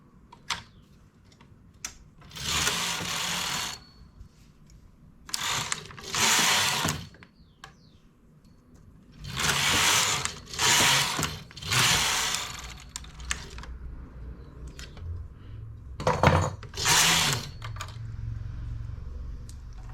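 A knitting machine knits a hat in contrasting yarn, its carriage sliding across in several loud rattling passes separated by quieter pauses.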